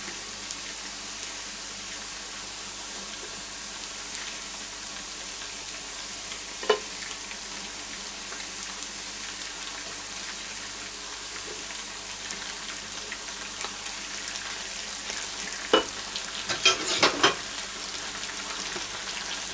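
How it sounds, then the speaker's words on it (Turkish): Keş cheese sautéed in oil makes a steady, low sizzle with faint scraping from stirring and a cluster of clinks near the end. "Bu şekilde keş kavuralım"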